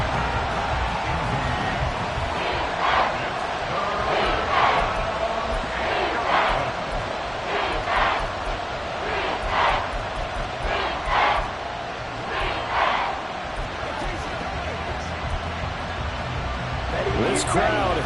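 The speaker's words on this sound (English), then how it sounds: "This crowd turning up the decibel level." A football stadium crowd roars and rises in volume during a third-and-long play, with rhythmic surges of cheering. A play-by-play commentator talks over the noise.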